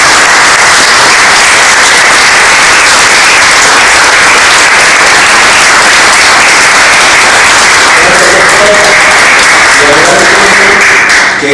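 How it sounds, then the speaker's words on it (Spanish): Loud, sustained applause fills the space at an outdoor Emiliano Zapata commemoration in San Bartolomé Xicomulco, Milpa Alta, a dense wash of many hands clapping continuously, with faint musical notes emerging near the end. "Un aplauso para"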